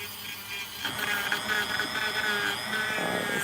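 Dremel rotary tool carving, a steady high-pitched whine that rises and grinds as the bit digs into the material, close and continuous throughout.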